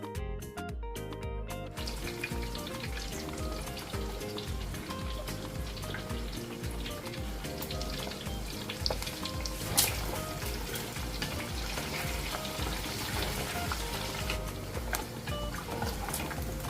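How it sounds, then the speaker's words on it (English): Beef and liver fry in a pan for an assorted meat stew, giving a dense, continuous sizzle that runs evenly from start to finish. "So now I'm going to fry the beef and the liver."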